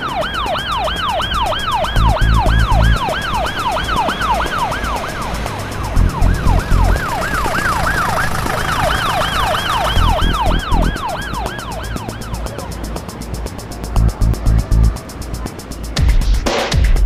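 An ambulance siren wails loudly and close, its rising and falling tone cycling steadily over a roaring vehicle engine and road noise, with a few short bursts of louder low rumble.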